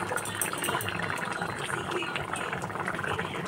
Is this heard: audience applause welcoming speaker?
no